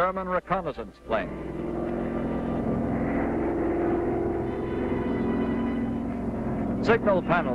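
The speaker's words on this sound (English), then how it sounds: "German reconnaissance plane." A steady propeller drone of a WW2 German reconnaissance airplane hums continuously, fairly loud, with people talking briefly at the start and end.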